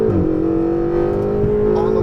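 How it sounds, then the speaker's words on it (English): A Ferrari 488 GTB on a Las Vegas track accelerates at full power, its engine note droning loud and close, then climbing steadily in pitch through the gear. "accelerate, full power"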